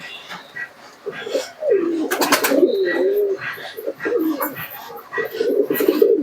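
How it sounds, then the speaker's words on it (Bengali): Pet racing pigeons coo close by, with repeated throaty, warbling calls rising and falling over about six seconds, mixed with a few wing flutters and light background noise. "দেখুন পায়রার ডানাটা দেখুন"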